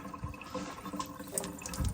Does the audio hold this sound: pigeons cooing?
no